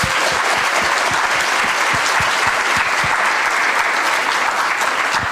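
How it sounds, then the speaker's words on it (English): Conference audience applauding entrants of the Global Social Venture Competition finals, a dense, loud, continuous wall of many hands clapping that holds steady throughout. "just a big round of applause for all of the entrants who have taken part in the Global Social Venture"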